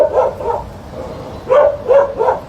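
A dog barks loudly and close by, in two clusters of rough, repeated barks with a short lull between them.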